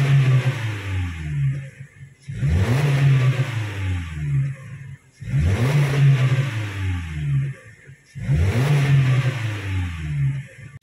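A 2018 Toyota Rush engine revving, with the roar coming from the catalytic converter. It gives three loud, close rev bursts, each climbing and then falling back, with short gaps between them.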